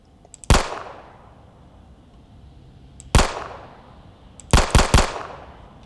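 Gunfire rings out in a horror video game boss fight: a sharp shot, a second after a pause, then a rapid burst of three, each echoing briefly over a quiet background.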